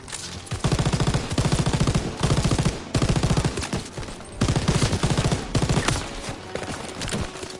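Rapid machine gun fire in the Call of Duty WW2 campaign hammers out in repeated long bursts separated by short pauses, loud and close.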